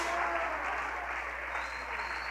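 Applause rises from a church congregation during a worship service, a steady, moderately faint wash of clapping that goes on without a break.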